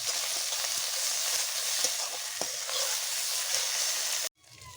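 Green chili paste fries in hot oil for a prawn curry with coconut milk, making a continuous loud sizzle with faint stirring scrapes that cuts off abruptly near the end, leaving quieter room sound.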